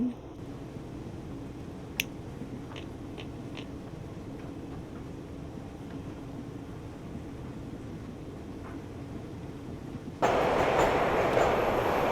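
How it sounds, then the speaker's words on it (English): A train rumbles past steadily at a distance in the Nancy Drew game Shadow at the Water's Edge, a low continuous roll with a few faint clicks, before a louder hissing burst takes over near the end. "Train."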